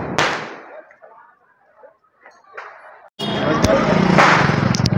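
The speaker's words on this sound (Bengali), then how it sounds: "দেখো চারিদিকে কিন্তু বোম প্রচুর ফাটছে।" Firecrackers go off on Diwali night in Mumbai with a sharp nearby bang, then scattered pops and crackles over a dense wash of street crowd noise and voices.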